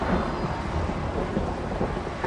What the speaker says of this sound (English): Yeah, storm's starting to break.